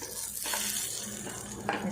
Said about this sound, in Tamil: இது கூட நல்லா மிக்ஸ் பண்ணிவிட்டு வதக்கி எடுப்போம்